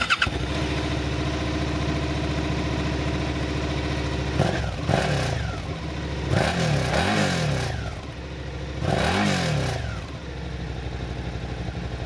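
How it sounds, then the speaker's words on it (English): A 2019 Suzuki SV650X with a 645cc V-twin engine starts and settles into a loud, lumpy idle close by. Three throttle blips swell the engine note and fall back again. "The SV650 is equipped with a single touch easy start function. Let's press the button and start it up."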